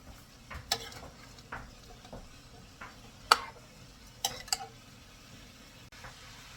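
Sweet potato and vegetables being stirred in a pan, soft irregular scrapes and taps of a utensil against the pan over a quiet sizzle, with a few sharper clinks.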